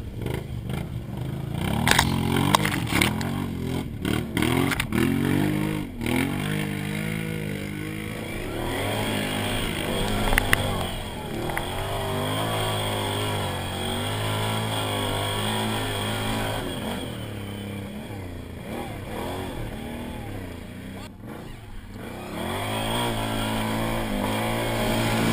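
A Can-Am Outlander ATV ridden in Saskatchewan, its engine droning and rising and falling in pitch as it speeds up and slows, close and continuous for the whole stretch, with no speech.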